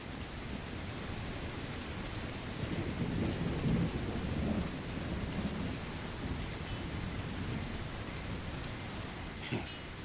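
Steady rain falls over the town of Bree in Lord of the Rings: War in the North, a constant dense hiss with a low rumble swelling midway, continuous and even throughout.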